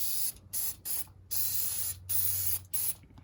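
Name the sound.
spraying brake cleaner from a can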